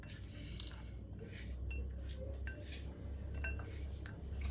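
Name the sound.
mixing apples into gluten-free cake batter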